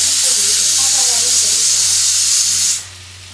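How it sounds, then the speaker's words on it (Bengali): Panch phoron and cumin seeds sizzling in hot oil in a home kitchen, a loud, steady hiss with a low hum beneath that drops away sharply near the end. "পাঁচফোড়ন আর জিরা দিয়ে তেলে দিয়ে দিলাম"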